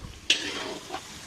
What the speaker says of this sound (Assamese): তো এইফালে চব্জি লাৰি আছোঁ